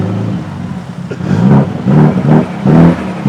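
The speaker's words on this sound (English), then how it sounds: "Rev a mini car at the McDonald's parking." Mini car with a special exhaust revving in a McDonald's parking lot, close and loud, with three or four rising engine surges in quick succession.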